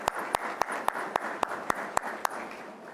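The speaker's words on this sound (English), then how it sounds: "I would like to be the first to ask the cadets to give their families and friends a round of applause" Cadets at a Philadelphia Fire Department Fire/EMT class graduation clap for their families and friends, heard as about ten sharp, evenly spaced claps in a slow steady rhythm over a soft murmuring room background.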